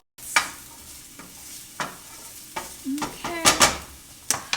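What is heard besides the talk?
vegetables sauteing in a pan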